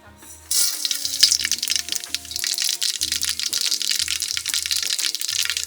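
Mustard seeds hit hot oil for a goat offal curry in an outdoor village kitchen, setting off a sudden loud, close sputtering sizzle that continues strongly while someone talks over it.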